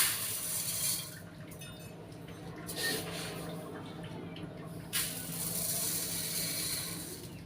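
Rice rinsed under a running tap, a soft continuous water stream with splashes and swishing bursts, close by, with no voices.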